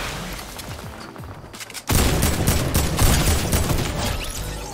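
Gunfire in Fortnite: a quieter stretch with scattered distant shots gives way to a loud, dense burst of rapid automatic fire and booms that persists to the end.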